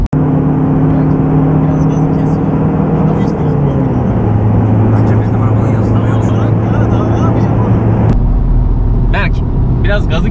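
A Stage 1 tuned VW Golf 7 1.6 TDI engine drones loudly and steadily under held throttle. The pitch drops partway through, then the sound cuts to a different tone near the end, with people talking over it.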